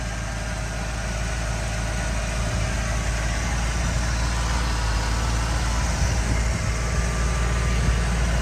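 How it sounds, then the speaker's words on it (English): A clean 1984 Pontiac Firebird Trans Am convertible's 305 V8 idles smoothly in a steady, moderately loud rumble heard near the open engine bay, with no talk. "Nice, smooth running, clean 305 V8."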